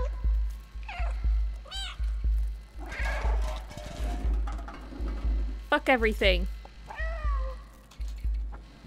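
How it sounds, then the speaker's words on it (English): Small cat in the video game Stray gives several short, rising meows of disapproval, close and clear, scattered between bursts of someone talking and low background game ambience. "I like the little meows he does of like disapproval."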